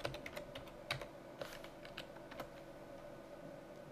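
Quick bursts of keystrokes on a computer keyboard, sharp close clicks in an uneven rhythm that thin out toward the end, fairly quiet overall.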